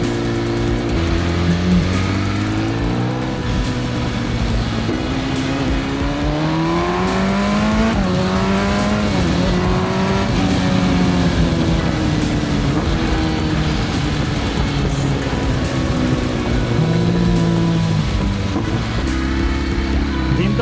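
Loud sport motorcycle engine revving and rising in pitch as it speeds up, with wind rush and a steady roar throughout.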